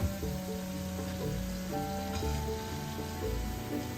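Cauliflower pieces deep-frying in oil for Gobi Manchurian, giving a steady, close sizzle with soft bubbling that runs without a break, and no voices.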